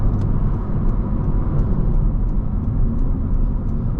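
An 11th-gen Honda Civic Hatchback engine pulls a loaded trailer up a steep hill in fourth gear, a steady, low, droning rumble under load, close and continuous with no talk.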